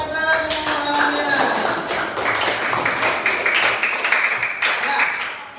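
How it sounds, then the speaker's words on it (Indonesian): A classroom group claps together after a computational-thinking lesson, sharp rhythmic claps in a lively burst lasting several seconds, with children's voices mixed in. "tepuk tangan untuk kita semuanya"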